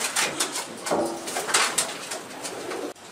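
Pigeons coo in a breeding loft, several soft, throaty calls overlapping close by against a busy background of rustling and fluttering.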